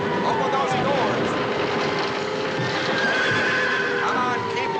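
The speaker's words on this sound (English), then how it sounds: "Get the horses out. Put them over in the horseway." Horses neighing and hooves clip-clopping in a 1963 film, whinnies rising over a constant hoof clatter and a dense, noisy rumble, with a voice speaking amid the commotion.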